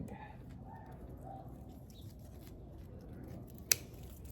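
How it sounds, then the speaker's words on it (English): Pruning shears make a single sharp, close snip through a rose stem while deadheading, after a quiet stretch where pigeons coo softly in the background outdoors. "So I found my shears, pruners, and we're gonna do an angled cut"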